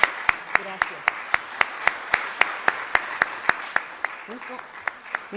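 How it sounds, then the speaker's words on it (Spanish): A lecture audience at a teaching conference claps for a guest speaker, the applause ringing out in sharp, evenly spaced beats, almost like one steady pair of hands, with faint murmuring voices in the background. "de verdad sí merece un aplauso muy fuerte"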